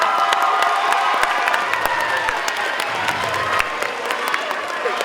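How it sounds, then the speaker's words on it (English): A crowd claps and cheers steadily throughout at a fifth-grade moving-on ceremony, with scattered whoops over the applause in a large indoor space. "Please give your parents, grandparents, aunts, uncles, relatives a round of applause"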